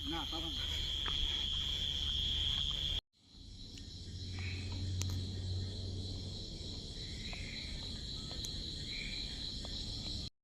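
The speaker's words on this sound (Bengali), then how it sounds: "এই দেখেন ঝিঝি পোকার আওয়াজ" Crickets chirp steadily in a quiet village at evening, a faint, continuous high trill that carries on through the whole stretch, with a short break around the third second and low background rumble beneath.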